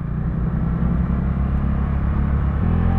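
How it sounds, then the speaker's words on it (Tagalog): A loud truck engine fitted with a muffler rumbles in a deep, continuous drone close by, its pitch shifting slightly near the end. "Naka muffler pa tong truck na to. Lakas ang tunog eh."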